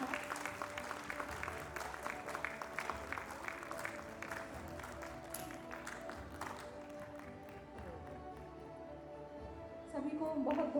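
Hall audience at an awards ceremony applauding a dance performance, a sustained broad clapping that swells again near the end, with a voice and music partly in the mix.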